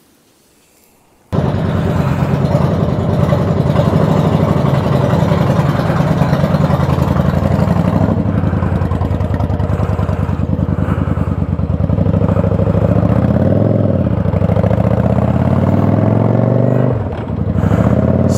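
A Yamaha V Star XVS650 cruiser motorcycle engine under way on the road, with a loud, steady V-twin thrum that kicks in after a brief quiet start and holds a constant drone with slight dips.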